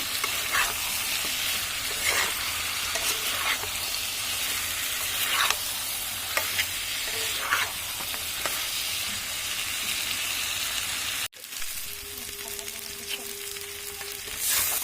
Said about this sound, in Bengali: এবার আমি দিচ্ছি এক চামচ মিট মশলা। আবার আমি ভালো করে কষিয়ে নেব।